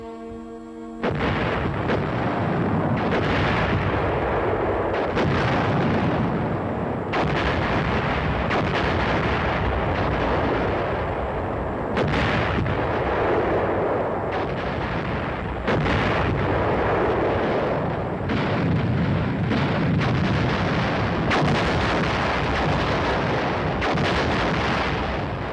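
US heavy artillery guns of the Cold War era fire in a rapid series of loud, booming blasts, each followed by a rolling echo, with dense continuous battlefield noise between the shots and no speech.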